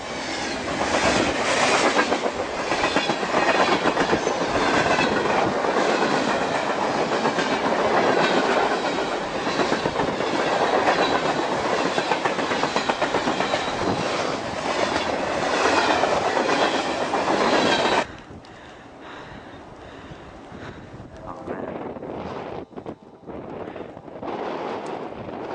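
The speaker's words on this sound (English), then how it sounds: "This is a normal train which you see all the time, okay?" A long freight train hauling cargo containers and oil tank cars rolls past close by, loud clickety-clack of wheels on rail joints with some wind buffeting, then cutting off abruptly to quieter outdoor ambience.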